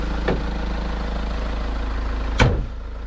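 A Mahindra Thar BS6 engine idles steadily with a low, even hum, close by and alone, with a brief louder rise near the end.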